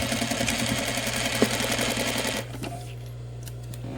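Sewing machine back-tacking through a fabric face mask to secure its elastic pocket, a close, steady rapid stitching rattle that runs for over two seconds, then drops to a quieter motor hum with brief ticks.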